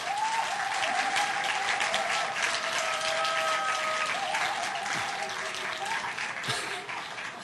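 Sustained audience applause at a church camp forum, dense and steady from start to finish, with a few voices faintly mixed in.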